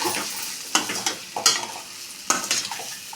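Leafy greens being stirred in a pan with salt and gram flour for a tempering, giving repeated scraping, rustling strokes with a soft sizzle underneath, close and fairly loud with no talking.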